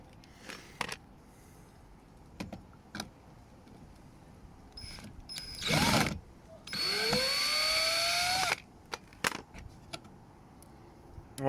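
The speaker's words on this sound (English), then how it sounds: "so I've undone all the screws" A power driver undoes screws on a Ford Fiesta ST180 rear diffuser, giving a few short whirring bursts between scattered clicks and knocks of handling, close and moderately loud, with no talking.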